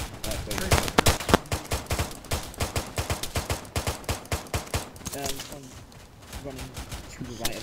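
Video game gunfire with tracer rounds in a military shooter, rapid bursts of automatic shots firing steadily and loudly over several seconds, close up, with voices talking over the shooting.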